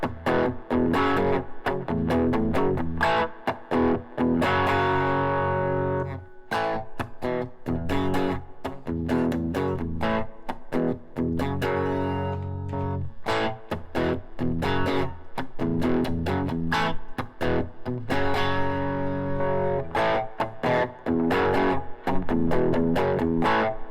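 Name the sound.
electric guitar riff through stacked overdrive pedals on Tone Master Pro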